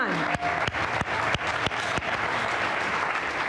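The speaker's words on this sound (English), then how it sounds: "let's clap for our young people" Audience applause for young scholarship recipients at a city scholarship ceremony in Boston, a steady wash of many hands clapping close and full throughout, with a few sharp individual claps standing out near the start.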